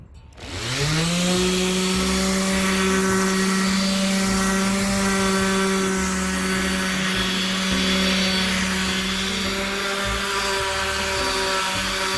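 A power sander whirs up and runs continuously at a steady high pitch, loud and close, grinding old polyurethane off a wooden slab.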